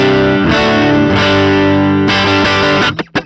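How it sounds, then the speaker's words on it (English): A clean electric guitar tone through an HX Stomp with no reverb: full strummed chords ring loudly and sustain, then a few short plucked notes close the phrase. "But here's my clean tone."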